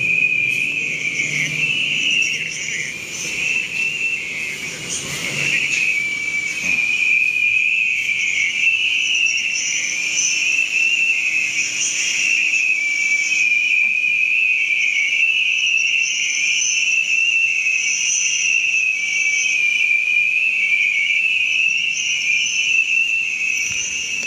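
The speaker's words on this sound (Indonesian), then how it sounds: "di sini kencang banget suara jangkrik ini." Crickets chirp loudly at night inside a building, a steady, dense, high shrill trill that fills the whole stretch without pause or voices.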